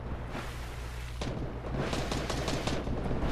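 Gunfire in the Fortnite video game, a dense rattle of shots over a steady low hum that grows busier partway through and continues to the end, with no talking.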